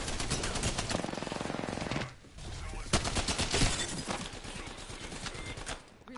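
Spitfire light machine gun firing rapidly in Apex Legends, a loud continuous automatic burst for about two seconds, then a short pause and more dense gunfire and game noise through to the end.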